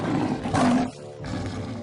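A large saber-toothed cat, a prehistoric predator of up to 600 pounds, lets out a loud, deep, drawn-out roar that swells and then fades, with a second rumbling growl following.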